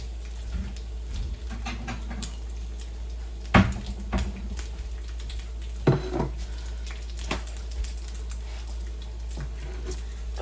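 Bacon sizzles steadily in a frying pan under a constant hum, with occasional clinks of a utensil against the pan as the strips are lifted out.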